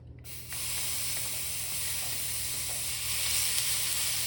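Gochujang garlic cream sauce sizzling in a hot pan, a steady loud hiss and crackle that starts abruptly and holds evenly throughout with no voices.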